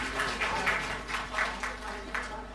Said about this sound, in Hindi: तो मैं चाहूंगा तमाम सारे आगंतुकों के लिए आप तालियां बजाकर स्वागत करें।